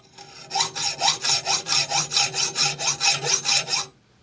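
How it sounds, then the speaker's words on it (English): A hacksaw cuts through metal held in a vise, producing about fourteen even back-and-forth rasping strokes in a steady rhythm, close and loud, then stopping abruptly. "is this going to be hard work with this hacksaw?"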